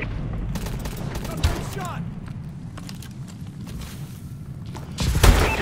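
Gunfire from Call of Duty: Advanced Warfare sounds in a multiplayer flag match as scattered sharp shots and thuds under game voice callouts, with a louder burst near the end.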